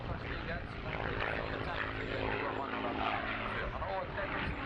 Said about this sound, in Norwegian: Flygerne som flyr her, det er Mark Hanna.